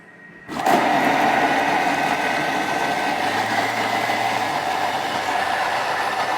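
A kitchen blender running at speed 8 switches on with a click and grinds steadily, a dense whirring roar that holds close and loud throughout.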